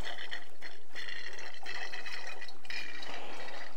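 DEF/AdBlue fluid draining into the tank of a Land Rover TD6 Discovery 5, a faint, steady watery trickle and gurgle running throughout.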